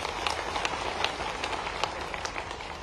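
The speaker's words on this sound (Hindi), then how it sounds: "एक बार उनके लिए ताली बजा दो।" Hall audience at a Bhopal student merit awards ceremony breaking into dense, steady clapping, a loud broadband patter of many hands with sharp individual claps poking through.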